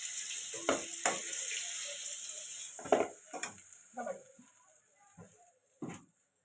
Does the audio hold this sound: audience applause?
no